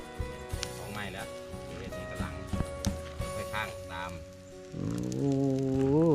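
Steady rain patters outdoors by a pond while snakehead fish grill, with people talking throughout and a droning tone near the end.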